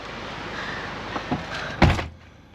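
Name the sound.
van door being shut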